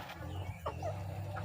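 Free-ranging native chickens on a diversified farm give a few short clucks over a low steady background hum, fairly close and brief, with no talking.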